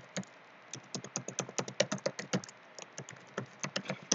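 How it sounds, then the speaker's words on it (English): Rapid, uneven clicking of keys on a computer keyboard, close and quiet, a continuous burst of typing with brief pauses and no voices. "I'll type it one last time."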